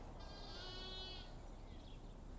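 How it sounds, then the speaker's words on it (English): Scandinavian lamb hoggets bleating in a sheep flock, one drawn-out bleat and a fainter follow-up, distant and quiet over steady outdoor background noise. "These are Scandin lamb hoggets."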